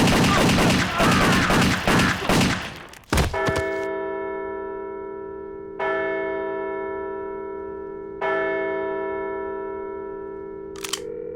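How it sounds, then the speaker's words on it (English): Gunfire in an animated adult cartoon: a burst of rapid shots, then single loud ringing gunshots spaced a few seconds apart with long metallic decays, and a final sharp crack near the end. "I'm gonna shoot you!"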